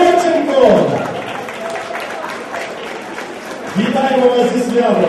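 Audience applause at an awards ceremony in Lviv as actors walk the red carpet, a steady wash of clapping with voices talking over it near the start and again toward the end.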